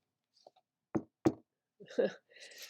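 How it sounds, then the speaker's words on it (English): Two sharp, close knocks a fraction of a second apart on a hard surface that is not wood, followed by a voice starting to speak. "This isn't even wood. I don't know why I'm knocking on it."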